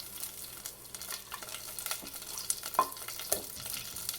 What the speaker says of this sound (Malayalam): അപ്പോൾ നമ്മുടെ കടുക് പൊട്ടി വരുന്നുണ്ട്.